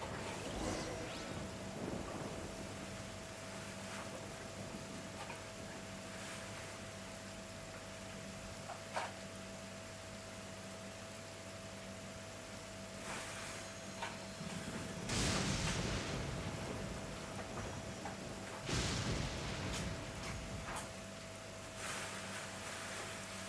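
Thunder rumbles in the Genshin Impact video game over a steady background hum and ambient weather, with a few louder crackling bursts standing out among faint distant rolls.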